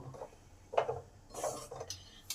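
Bowl-mixing of mashed potato and moringa stem filling with sattu, with soft scraping and a few clinks of a spoon against the bowl, close and fairly quiet, in irregular strokes.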